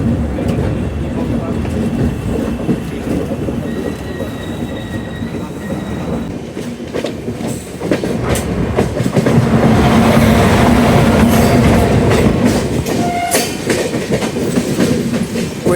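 Sadbhavana Express train 14007 rolls along the rails after leaving Sultanpur, a steady rumble of wheels with clickety-clack and faint squeals, growing louder midway, with occasional voices in the carriage.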